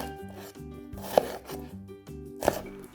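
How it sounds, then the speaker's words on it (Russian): A knife finely chops a yellow onion on a board in quick, even, close-up strokes, alone and fairly quiet, with two slightly sharper knocks among them. "нарезаем мелко одну репчатую луковицу"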